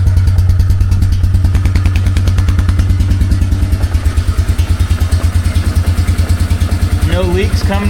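A cheap ATV engine runs with the choke off, a loud, close, steady idle with rapid chugging pulses throughout and a voice briefly speaking over it near the end.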